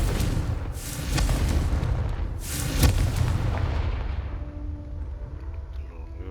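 A Confringo explosion spell goes off in the video game Hogwarts Legacy, two loud crackling blasts with booming bodies close together, then a rumbling tail that fades away.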